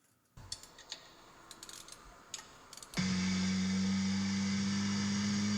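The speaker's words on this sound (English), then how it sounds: "So it kind of sounds like an RX-7." A Miata car engine starts up and settles into a loud, steady idle with a deep, buzzing drone, after a few light clicks and taps.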